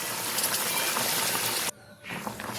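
Hot water poured into a pan of frying prawns and potatoes for prawn curry, a loud gushing hiss that cuts off abruptly, then a softer bubbling sizzle resumes.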